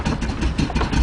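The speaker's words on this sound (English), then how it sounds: "Idling at 400-500 RPMs." A 1974 car's 350 cubic inch V8 idles at low revs, a close, loud, lumpy rumble with a steady pulsing beat throughout the brief moment.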